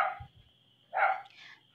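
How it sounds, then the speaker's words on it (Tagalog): Dog barking outdoors, heard as two short, faint barks about a second apart, muffled and somewhat distant. "pasensya na po kayo kasi ang ingay-ingay po ng aso namin sa labas"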